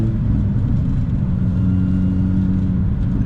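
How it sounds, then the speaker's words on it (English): A 17-year-old Mini Cooper S R53 with its supercharged engine drones steadily from inside the car, a loud constant low engine rumble with sustained tonal whine layered on top. "This car is all about that supercharger whine."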